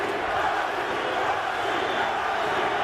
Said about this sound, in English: English crowd chanting Nazi,